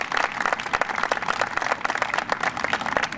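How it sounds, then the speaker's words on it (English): Audience applause, a steady dense patter of many hands clapping throughout, moderately loud and without talk. "Just a round of applause for all of their hard work."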